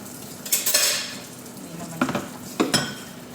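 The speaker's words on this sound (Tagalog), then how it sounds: "Ang dami kong hinuhugasan ng mga plato." Plates and utensils clattering during dishwashing in a busy kitchen, a few sharp clinks and knocks at irregular intervals over a faint background hiss, with no talking.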